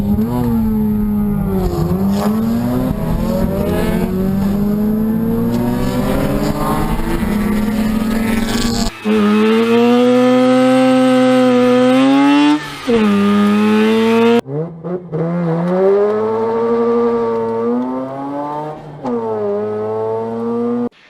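A Mazda RX-8 rotary engine screams through rising and falling harmonic sweeps, repeatedly climbing in pitch, loud and close, with brief shifts between rev bursts.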